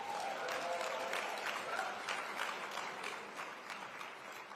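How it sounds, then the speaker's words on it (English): Sustained applause from an audience at a Martin Luther King Jr. address in Dallas, Texas, a dense steady clapping that holds evenly for several seconds before easing slightly near the end. "Let's give her another round of applause."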